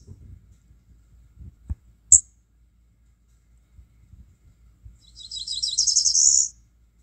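A warbler song played back from a smartphone field-guide app: a single clear, high, fast trill rising into a buzzy flourish, heard alone against near silence after a few faint clicks and soft low rumbles.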